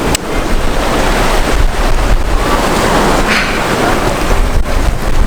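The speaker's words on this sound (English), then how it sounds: "It's probably a little windy, but it's not too bad today, and we're right on the sea" Steady roar of Red Sea surf at Dahab, Egypt, and wind buffeting the microphone, continuous and loud throughout with no voices.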